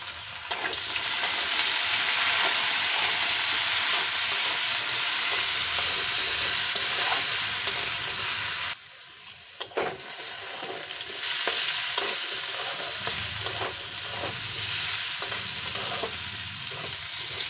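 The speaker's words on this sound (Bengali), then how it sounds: "তেলটা গরম হয়ে গেলে প্রথমে আলুগুলো ভেজে নেব।" Potato pieces seasoned with salt and turmeric fry in hot oil, a steady loud sizzle that holds continuously, dips briefly in the middle, then crackles on.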